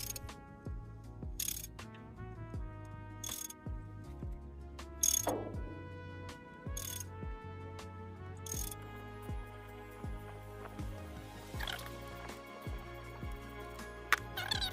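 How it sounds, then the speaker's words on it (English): A ratchet with extension and spark plug socket works a spark plug loose from a Toyota Yaris engine, giving a run of close, light clicks, knocks and metallic handling sounds spread across the clip. "we take our extension and our spark plug socket and we stick it into the hole, get it nice and tight, and extract the spark plug"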